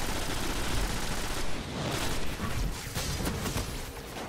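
Rapid bursts of gunfire from a legendary gun in a zombie-apocalypse PlayStation 3 video game, dense and continuous with a few sharper booms, loud and close with no talking over it.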